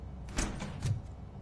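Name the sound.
door opening in video game RoboCop Rogue City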